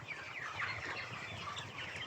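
Tiger breed chickens cluck softly on a poultry farm, a faint, continuous murmur of bird calls with no voices over it.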